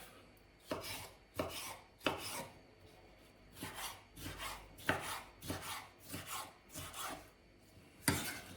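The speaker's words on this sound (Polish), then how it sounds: "I paprykę, jak widzicie, kroję w kostkę." A knife dices bell pepper into cubes on a cutting board for a jarred cucumber and cabbage winter salad, with about a dozen crisp, fairly even chops that are close and moderately quiet.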